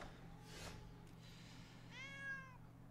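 A cat meows twice, the second call longer and clearer, close by in a quiet room with a low steady hum behind it.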